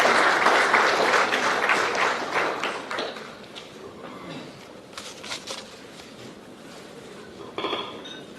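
An audience at an election observers' briefing in a Nairobi hotel applauds loudly at first, the clapping thinning and fading over several seconds, with a few scattered claps and a brief late flurry.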